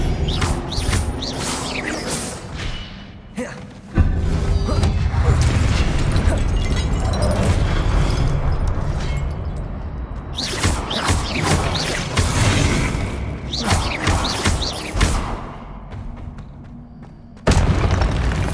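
Confringo blasting spell explosions in Hogwarts Legacy: repeated loud booming bursts with rumbling, crashing debris across a sustained battle, broken by brief lulls before fresh blasts.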